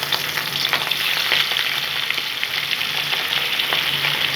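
Hilsa fish pieces frying gently in smoking hot oil, a loud, dense, continuous sizzle with a crackling hiss that holds steady throughout, close up and without talk.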